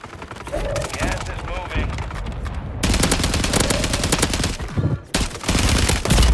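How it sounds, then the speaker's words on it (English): Sustained automatic gunfire from a Call of Duty match on Rebirth Island, with an SMG rattling in long, loud bursts. The firing breaks off briefly before resuming, while a voice speaks underneath. "They were shooting at this guy, bro."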